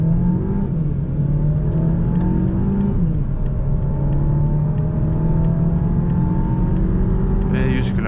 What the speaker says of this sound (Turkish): Şurada bir 0-100 hızlanmamıza bakalım istiyorum. Yani durduk, hızlıca kalkıyoruz.